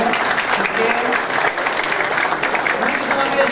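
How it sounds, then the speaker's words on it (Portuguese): Loud, sustained round of applause from an audience at a public event about a port contract in Arroio do Sal, dense and even from start to finish. "aqui uma salva de palmas."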